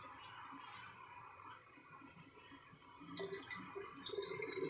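Water trickles and splashes faintly as it is poured into a container already holding salt, a steady filling sound that grows slightly louder toward the end.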